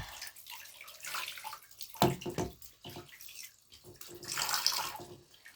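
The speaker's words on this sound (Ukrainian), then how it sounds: "Так, теперь включаем снова водичку." Water running from a tap while a baby doll is bathed, with a faint intermittent splashing flow and a brief sharper splash in the middle.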